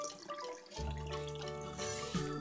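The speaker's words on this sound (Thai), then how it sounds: "โอเคเทน้ำออกค่ะ" Rinse water poured out of a bowl of washed rice, a soft continuous trickling and splashing that runs steadily, close and fairly quiet, with no talking.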